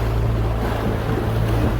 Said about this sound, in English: 4 to 6 foot swells that we're bouncing through